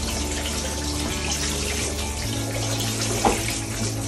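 Freshly picked blackberries rinsed under a steadily running kitchen tap, water splashing continuously into a sink, with a faint hum underneath and no talk.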